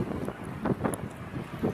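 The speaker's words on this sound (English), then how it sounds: "As you can tell, it's a very windy day out here." Strong wind gusts buffet the microphone at an outdoor shooting range, a steady low rumble with surging bursts and no talk.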